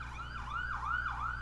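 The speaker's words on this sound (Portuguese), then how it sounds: "Olha, tá passando aqui uma ambulância" An ambulance siren wails nearby from a road close to a home by an expressway, its rising and falling tone repeating steadily over a low, constant traffic hum.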